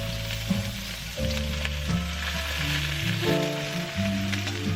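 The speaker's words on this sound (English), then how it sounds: "I decided to make a stir-fried mix of everything" Leftover hot pot ingredients stir-fried dry pot style, a steady broadband sizzle of frying with stirring, close and continuous, with a musical tone layered over it throughout.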